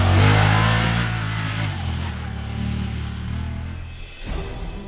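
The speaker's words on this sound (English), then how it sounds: "Here we piloted our UTVs through a canyon so narrow you could touch the walls on either side of the vehicle." A UTV engine revs hard and loud while driving through a narrow slot canyon in Southern Utah, a steady throaty roar that eases slightly before a brief dip and renewed pull near the end.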